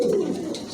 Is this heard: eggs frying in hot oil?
no